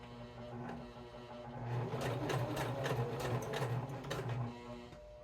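Sewing machine stitching a heart-shaped coaster, running as a steady, close mechanical whir with a rapid needle rhythm that builds in the middle of the clip and eases off toward the end, with no talking.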